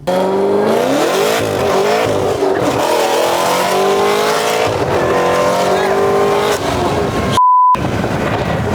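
A 900-horsepower Corvette ZR1 engine revs hard and climbs through the gears, loud and close, with a rising whine and a sharp shift near the end.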